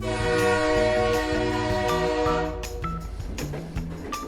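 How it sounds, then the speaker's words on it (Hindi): A train begins to move, with a loud sustained horn-like tone and rumbling, tonal railcar noise that gives way to quieter clanking and clicks, heard close with no talk. "अरे वाह, ट्रेन चल गई।"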